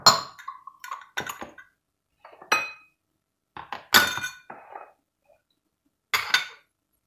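Green beans in olive oil sauce rattle in a cooking pot as it is shaken, giving short bursts of clinking and metallic clatter separated by quiet gaps, close and alone.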